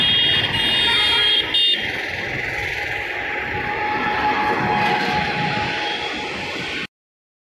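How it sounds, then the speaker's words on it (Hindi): A metro train in Jaipur passes close by with a loud, continuous rumble and rushing roar, a faint metallic squeal on top, before the sound cuts off abruptly near the end. "मेट्रो जा रही है"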